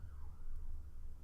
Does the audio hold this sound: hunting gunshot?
no